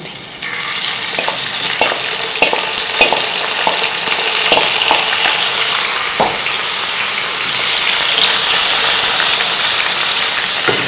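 Onions and shredded mutton fry in a pan over a high flame while cooking mutton daleem, giving a loud, steady sizzle with a few faint clinks of stirring.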